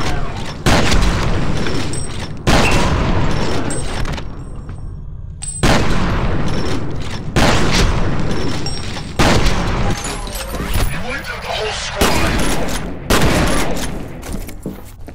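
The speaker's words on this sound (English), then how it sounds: "That's rockets." Rocket blasts in the shooter game F.E.A.R., a run of loud, booming explosions arriving in repeated bursts with brief gaps between them.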